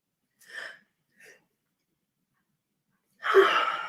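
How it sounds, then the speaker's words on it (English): Two short breathy intakes, a pause, then a sudden loud, shrill sneeze that bursts out like a scream and trails off. "I have like a scream sneeze."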